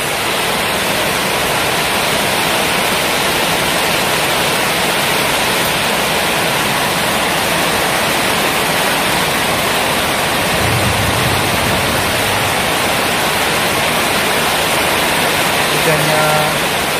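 Heavy rain pouring down in South Kalimantan, a dense, loud, unbroken roar of falling water that fills the whole stretch with steady hiss.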